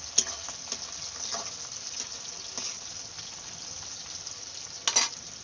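Low, steady sizzling of onions frying in a pan, with occasional light scrapes and clinks of stirring.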